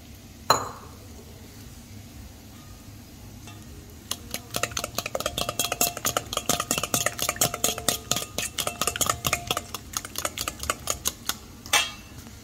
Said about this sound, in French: je vais battre les œufs déjà